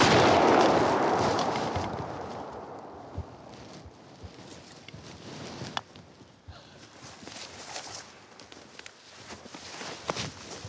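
A shotgun blast at a wild turkey while hunting opens loud and booming, then decays into rustling, footsteps and faint outdoor noise.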